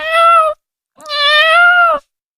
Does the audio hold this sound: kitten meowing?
yes